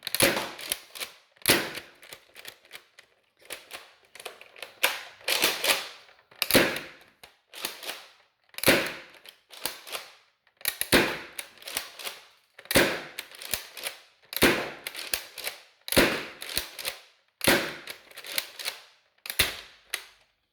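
A modded Zuru X-Shot Chaos Orbit toy blaster firing again and again, each shot a sharp, loud snap with a short mechanical rattle, in a steady rhythm of about one shot per second, close up and with no talking.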